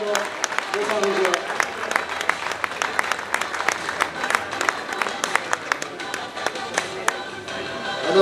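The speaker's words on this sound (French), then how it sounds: "donneur d'applaudissements et d'encouragement pour Marija." Applause and cheering from the crowd at a handball club's season presentation evening, continuous dense clapping with sharp individual claps standing out, sustained throughout with a voice over it.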